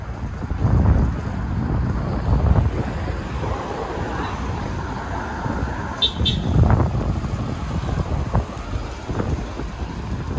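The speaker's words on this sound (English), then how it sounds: "It's fucking windy out" Strong outdoor wind buffets the microphone in steady low rumbling gusts throughout, with a brief faint toot midway; no talk.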